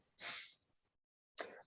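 Two quick sneezes close to the microphone, a sharp burst followed by a short silence and then a second, slightly shorter one.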